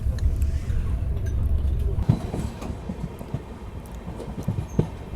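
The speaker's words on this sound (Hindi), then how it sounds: "बस कुछ ही देर में अपनी ट्रेन पहुँचने वाली है रामपुर रेलवे स्टेशन" The Kathgodam Shatabdi Express rolls into Rampur junction railway station with a low rumble and rhythmic wheel clatter on the rails, heard up close and moderately loud, with faint background voices.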